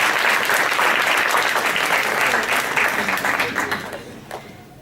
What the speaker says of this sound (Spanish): Por favor, le damos un aplauso.